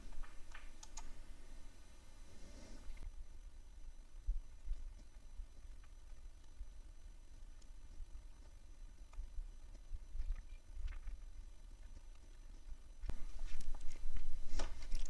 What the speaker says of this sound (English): It'll start loading the data off that tape.